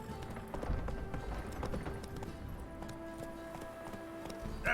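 Roach the horse gallops in The Witcher 3, hooves clip-clopping in a steady rapid rhythm close by, over a busy game backdrop of ambient sound and music.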